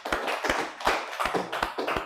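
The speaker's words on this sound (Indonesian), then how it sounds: "Tepuk tangan untuk Ivan ya" A classroom applauds a student, giving brisk irregular clapping from several people with close, sharp hand claps lasting about two seconds.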